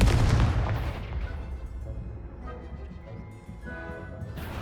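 A Confringo spell blast in the Hogwarts Legacy video game opens with a loud booming burst, then fades into lower crackling game ambience.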